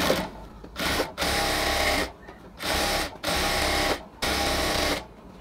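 A sewing machine runs in short bursts while stitching a ladies' pant, loud close whirring runs of about a second each separated by brief pauses.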